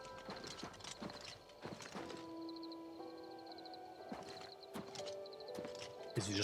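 Horse hooves clip-clopping in Oblivion Remastered, a steady clopping gait with a horse whinny and snort, plus faint game ambience and birdsong behind, no talk.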